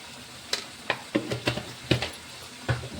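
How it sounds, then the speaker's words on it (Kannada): Vegetable palya with peanut powder just added is stirred in a pan, giving about eight scraping strokes at an irregular pace over a low sizzle. The strokes are close and moderately loud, and no one speaks. "ಈಗ ಇದನ್ನು ಚೆಂದಾಗಿ ಮಿಕ್ಸ್ ಮಾಡಂಬ್ರಿ."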